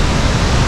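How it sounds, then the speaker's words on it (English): A waterfall at Hidden Falls in Havasupai crashes as a loud, steady roar of broadband water noise, close by and unbroken. "This is the last waterfall for us to hang out at for our trip"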